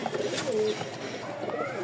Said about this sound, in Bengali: নরের যে ডাক আছে